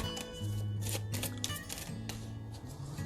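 Cards are shuffled close by in quick, papery riffling bursts, repeated several times over a low hum.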